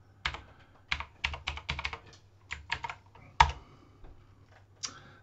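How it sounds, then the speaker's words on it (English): Quick bursts of keystrokes on a laptop keyboard as a password is typed, irregular clicks close up in a quiet room with no talking. "And then I'll type in teacher and then the password."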